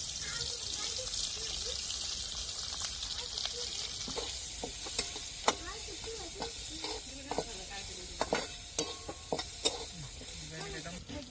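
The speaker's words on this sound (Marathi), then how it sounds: "तर आपल्याला चांगला कांदा परतून घ्यायचा." Chopped onion fries in a pan, a steady hiss of sizzling oil with scattered stirring clicks and scrapes of a spatula, fairly close and moderate in level.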